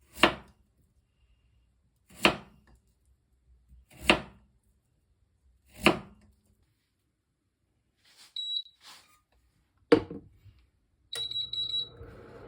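A knife chops through radish on a cutting board in four evenly spaced, sharp strokes, followed by a few more cuts and faint high beeps.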